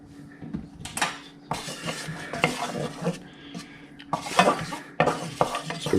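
Flour being stirred into a mac and cheese sauce in a pan, with close scraping and clinking of a utensil against metal in uneven bursts over a faint sizzle.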